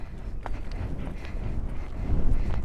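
A horse moves over ground with a few soft, dull hoofbeats in an uneven gait, muffled by wind buffeting the microphone, which grows heavier toward the end.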